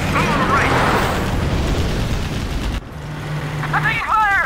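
Explosions from a bombing campaign in the Command & Conquer Generals Zero Hour strategy game, a dense, loud rumbling barrage of booms that cuts off abruptly, followed by a lower hum and battle chatter.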